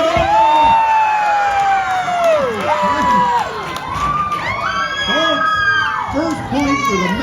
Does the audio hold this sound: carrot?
no